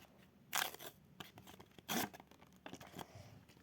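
A Lakuku blind bag packet being torn open close by, with quiet crinkly rips and two sharper tearing bursts amid soft plastic rustling, no talking.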